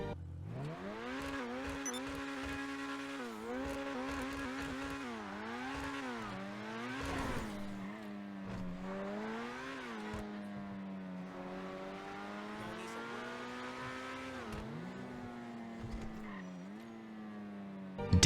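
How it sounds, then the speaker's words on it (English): A Grotti Furia supercar in GTA Online revs its engine over and over, the pitch climbing and dropping in loud, sweeping waves with a steady harmonic whine and no talk over it. "Let's quickly take a listen to the Grotti Furia and see how it sounds."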